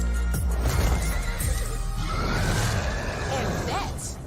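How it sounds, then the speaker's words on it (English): A horse gives a loud, close whinny with a rising and falling neigh. Talk runs alongside the sound throughout. "So it's a winged, fire-breathing, talking horse."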